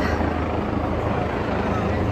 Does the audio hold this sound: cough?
no